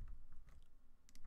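Soft, quick keystrokes on a computer keyboard tap in a short, uneven burst while Java code is entered, quiet and close with no talking.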